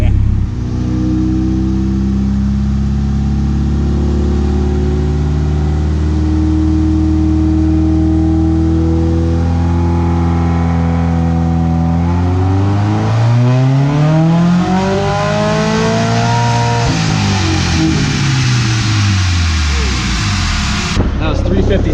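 A Subaru STI engine running on a dyno, a loud, sustained pull with pitch rising steadily through the revs, peaking and then falling away as the run ends, close and dominant throughout.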